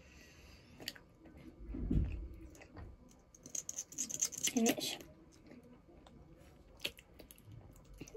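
Close, wet chewing and a couple of louder crunchy bites of pizza topped with sweet corn and cheese in a mukbang eating session, with brief talk in between.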